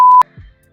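A censor beep masks a rude expression in Spanish-language podcast talk: a loud, pure steady tone held for about a fifth of a second, cut off abruptly, followed by a brief low murmur.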